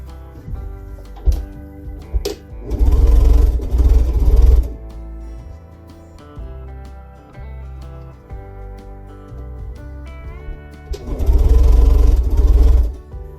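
A sewing machine stitches purple quilt pieces together in two loud, close bursts of rapid whirring, separated by a stretch of quieter handling sounds.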